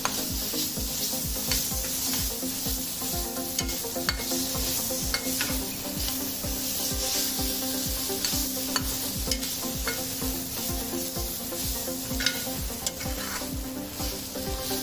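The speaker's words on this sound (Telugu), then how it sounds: "అల్లం వెల్లుల్లి పేస్ట్ పచ్చివాసన పోయేదాకా వేపుకోండి." Ginger garlic paste fries in a pan for a gongura meal maker curry, a constant loud sizzle with rhythmic scraping of a spoon stirring throughout, and no talking.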